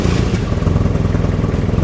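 Motorcycle with carbon fibre wheels revving close by, a loud continuous mid-pitched engine drone with slight throttle pulsing and no pauses.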